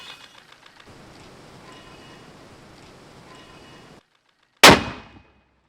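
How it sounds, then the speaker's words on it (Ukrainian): After a few seconds of quiet background rustle, a single loud, sharp gunshot cracks out on a front line, followed by a brief decaying echo. "Постріл!"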